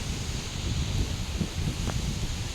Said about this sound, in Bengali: হাওয়া দিচ্ছে, ঝড় উঠে গেছে